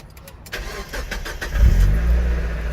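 A Mazda Miata engine cranks briefly and fires up close by, settling into a loud, steady idle on its first start in about a week.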